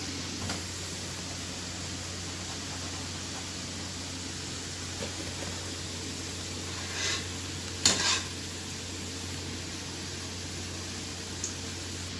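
Gulab jamun fry in oil in a pan. A steady, fine sizzle hisses at low volume throughout, broken by a couple of faint utensil clinks.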